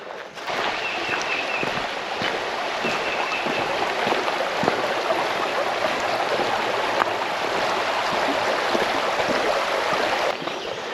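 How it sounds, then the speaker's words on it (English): A small stream runs beside a hiking trail in the woods, swollen after recent rain, giving a steady close broadband rush of flowing water that continues unbroken for the whole stretch with no voices. "Pretty little stream we're walking beside."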